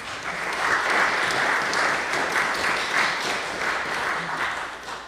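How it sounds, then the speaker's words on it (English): An audience at an evening Kaffeehaus event gives a round of applause, a steady wash of many hands clapping at even strength that eases slightly toward the end. "I think a round of applause is in order."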